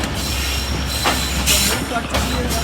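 Chenab Express passenger train pulling out of Balwal station: a loud continuous rumble of rolling carriages with periodic wheel squeals and clacks, heard from on board.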